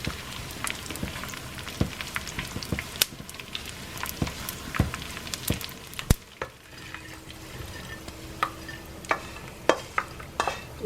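Dried skin slow-cooking over low heat in a hot pan for Lao mieng, giving a soft continuous sizzle broken by frequent clicks and scrapes of stirring, close and steady with no talking.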